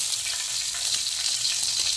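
Garlic frying in a hot pan for a river clam dish, giving a steady, dense, close sizzle that holds evenly throughout without pause.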